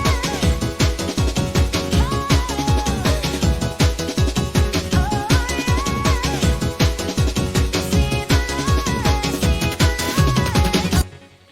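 A hardcore dance tune plays loud and steady, a sung vocal line running together with piano over pounding driving beats, continuous throughout before stopping abruptly at the very end.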